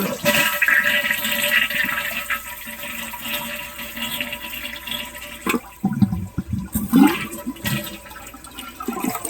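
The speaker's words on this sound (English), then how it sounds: "First thing we got to do is drain all the water that we can out of here." A toilet flushes loudly nearby to drain the tank for repair, water rushing and gurgling down the drain, then trickling and refilling with a few clunks toward the end.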